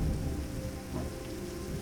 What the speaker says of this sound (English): when the rain comes down over you, you may hear thunder